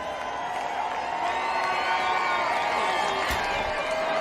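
A sold-out crowd cheers steadily at a Phoenix stock car race season finale after a championship win, a dense, constant roar of voices with a brief louder burst near the end.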